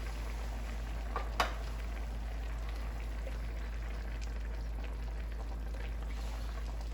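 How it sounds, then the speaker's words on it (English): About 28 ounces of tomato sauce pour into a pot for lamb ragu, a soft, steady liquid flow over a low constant hum with one brief clink. "I will add about 28 ounces of tomato sauce or tomato puree."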